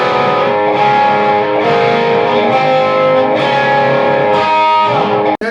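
Distorted electric guitar plays a riff against the open fifth string, a loud, dense and sustained rock tone with a driving steady rhythm and a brief cutoff at the end.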